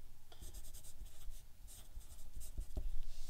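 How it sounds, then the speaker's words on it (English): A pencil writing a name on a sheet of paper, with close, quiet scratching strokes in short irregular bursts and no talk over them. "You go ahead and write your name on the paper."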